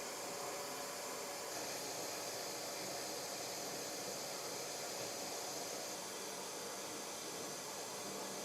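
Workshop dust collection system drawing air through a boot, giving a steady, close, broadband rushing hiss that holds unchanged throughout with no speech.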